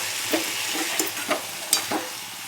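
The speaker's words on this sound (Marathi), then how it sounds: "तेलात फ्राय करून घ्यायचं पहिले आपल्याला" Cowpea (chavli) pods fry in hot oil with a steady close sizzle, broken by several scraping stirs of a spatula through the pan, with no talking.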